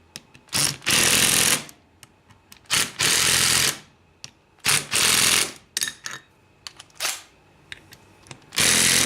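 Clutch basket bolts on a Yamaha Banshee are run down with a small cordless power tool, giving several short, loud whirring bursts with pauses between them, heard close and without speech.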